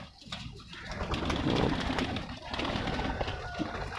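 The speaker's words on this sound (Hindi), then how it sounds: "तो ये जो डीडा कबूतर है," A pigeon coos close by in a series of soft, low, rolling calls that rise and fall across a few seconds, with no talking over them.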